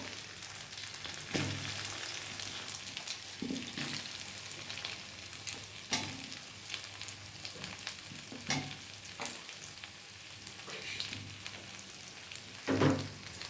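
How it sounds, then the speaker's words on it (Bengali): Fried capsicum and potato sizzle in the pan for a paneer curry, a continuous close hiss with scattered crackles and occasional stirring scrapes, louder bursts early and near the end. "ভাজা ক্যাপসিকাম আর আলুটা দিয়ে দেব।"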